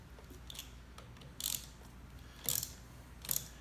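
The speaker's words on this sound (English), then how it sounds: "This gets torqued to 16 to 18 foot-pounds." Ratchet or torque wrench tightening bolts on a motorcycle handlebar: three short, distinct clicking ratchet bursts, quiet and close, separated by about a second of near silence.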